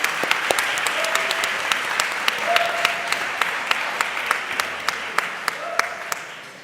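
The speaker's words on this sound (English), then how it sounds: "Let's give Prof a round of applause." An audience claps for a speaker at the close of a dialogue session, producing a continuous roll of applause with sharp individual claps standing out and a few faint voices underneath.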